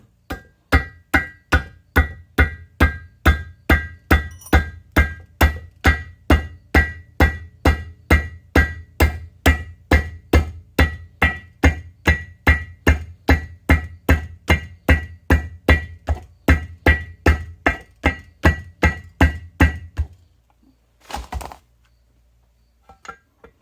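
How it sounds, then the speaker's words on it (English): A hammer taps a cap plate onto a shaft during reassembly of a Chipmaster capstan, about forty sharp, evenly spaced close metallic blows in a steady rhythm, then stopping near the end with a brief clatter. "Just tap it on with the bottom of the hammer."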